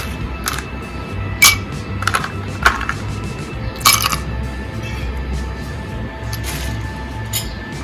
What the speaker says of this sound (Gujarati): ગ્લાસ લઈશું તેમાં પહેલાં બરફના ટુકડા એડ કરીશું